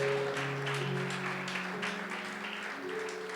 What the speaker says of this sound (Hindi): प्रभु के लिए ताली बजाए